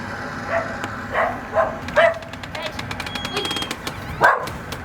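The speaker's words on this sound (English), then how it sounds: "Upset the dog." A dog barks in several short, separated bursts that stand out over a quiet room, with people talking nearby.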